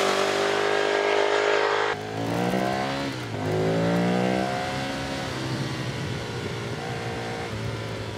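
A 2010 Ducati Streetfighter revs hard and accelerates, its engine pitch sweeping upward through several rising pulls after a brief gap, fairly loud and unaccompanied by voices.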